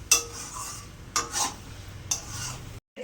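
Taro greens being stirred in a pan: three sharp metal spoon scrapes and knocks against the pan, each followed by a brief rustling shuffle, over a low sizzle, ending abruptly.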